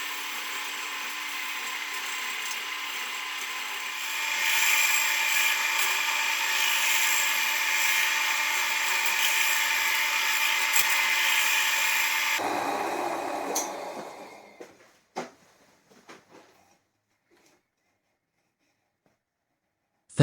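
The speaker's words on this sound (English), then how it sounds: "Back in the lathe, let's try and sort this end out." A wood lathe whirs with a steady high-pitched tool whine that shifts midway, then winds down into a few clicks and knocks before falling quiet.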